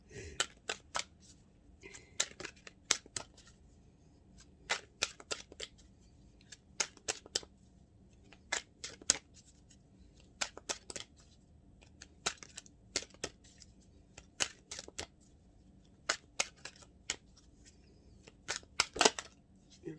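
Tarot cards being shuffled by hand before drawing a single life purpose card: a quiet run of short, crisp riffling snaps and flicks in uneven bursts, with a soft background hum and faint movement between them.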